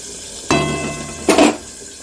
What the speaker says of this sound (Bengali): এখানে পরিমাণ মতন জল দিয়ে দিচ্ছি